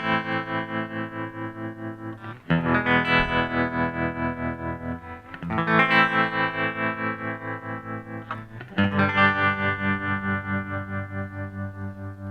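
Electric guitar chords pulsing through a Boss TR-2 tremolo pedal on its smooth wave setting, with a steady rounded throb in volume and chord changes every few seconds, loud and alone.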